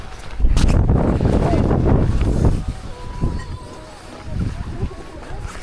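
Strong wind rumbles and buffets the microphone at a lakeside camping site in Cavinti, Laguna, loud and gusty at first, then easing and surging again in waves.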